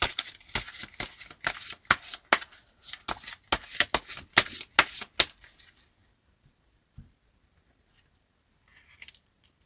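Tarot cards are shuffled close up in quick repeated riffles and snaps for about five seconds, followed by near silence with a couple of faint taps.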